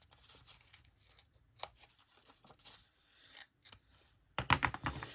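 Scissors snip through paper for a junk journal pocket stuffer, a quiet sequence of short crisp cuts spaced irregularly, ending in a louder burst of rapid snipping.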